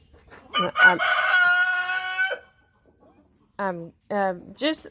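Chickens in a backyard coop: a rooster crows loudly and close by with a long drawn call, followed by several shorter clucking calls after a brief pause.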